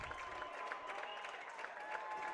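A baseball crowd claps and cheers after a sliding double in a USA versus Canada Selects game, steady distant applause with scattered shouts that stays fairly faint throughout.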